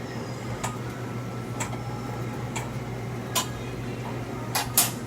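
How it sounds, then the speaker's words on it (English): A fork pokes into fish cooking in a pan over low heat, giving light clinks and taps at irregular intervals over a steady, faint sizzle and hum. "the best way to make sure your fish is cooked, with a fork,"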